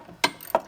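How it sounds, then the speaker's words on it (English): A ratchet with a 13 mm socket tightens a bolt on a running board bracket of a 2014 Ram 1500 fitted with Rough Country HD2 running boards; two short, close bursts of rapid clicking. "Just going to tighten these up. I'm using a 13 millimeter socket."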